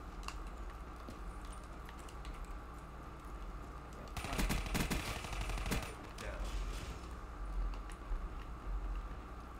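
Gunfire in Call of Duty: Black Ops III, mostly faint under a steady game background, with a denser cluster of rapid shots around the middle of the clip and scattered single reports elsewhere.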